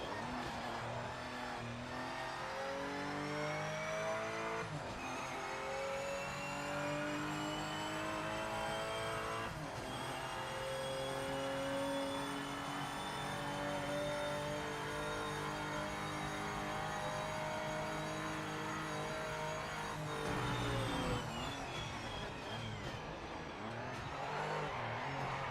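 Race car engines in the video game Project Motor Racing wail steadily at high revs, pitch dipping and climbing through gear changes as the car runs its final lap, loud and continuous with no voices.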